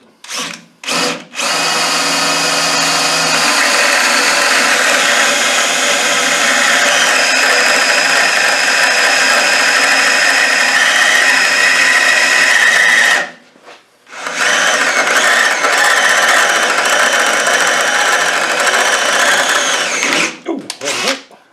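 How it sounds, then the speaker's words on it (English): A power drill whines steadily at high speed for long stretches, drilling out stuck bolts on a Rover V8 starter motor, stopping briefly midway before running again, loud and close. "let's drill them out you need a drill"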